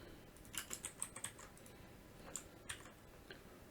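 Keys tapped on a computer keyboard during web page editing, a quick burst of faint clicks followed by a few scattered single taps, quiet and close with no talking.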